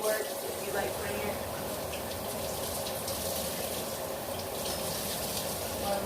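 Cold tap water running steadily into a kitchen sink, a continuous close splashing hiss with faint background noise.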